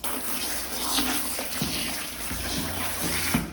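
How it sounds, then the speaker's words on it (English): Cycling kit is rinsed in a basin of water, with continuous splashing and sloshing and a few soft knocks as the clothing is moved about. "I usually give everything 2 rinses minimum, just to make sure that all the dirt and all the Dettol and all the soap is rinsed out."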